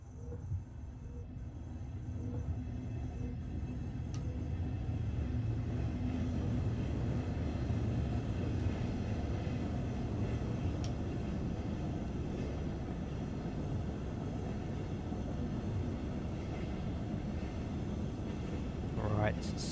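A train rolling in Train Sim World on the Ruhr-Sieg Nord line in a storm, a steady low rumble and hum of the running train that stays close throughout.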